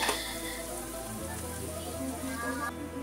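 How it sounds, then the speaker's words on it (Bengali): Long-cut carrot strips fry over low heat in a pan for street-style chowmein, giving a steady, close sizzle and crackle that runs without pause. "গাজরটা দেখো হালকা করে ভেজে নেওয়া হয়ে গেছে।"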